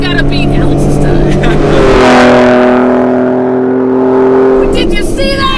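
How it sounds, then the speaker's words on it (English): A Hennessey VelociRaptor 600 Stage 2 truck accelerating hard, its engine note climbing steadily through the gears and loud and near, then fading slightly before a fresh burst at the end, with voices talking over it. "95 miles per hour in a big old truck."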